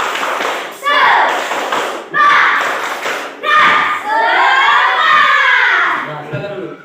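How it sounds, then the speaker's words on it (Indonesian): A classroom of children performs a rhythmic spirit clap, loud thudding claps and slaps landing in short bursts together with the kids' chanted shouts, repeated several times over roughly seven seconds. "Tepuk semangat."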